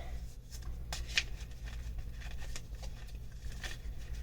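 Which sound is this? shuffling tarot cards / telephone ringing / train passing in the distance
shuffling tarot cards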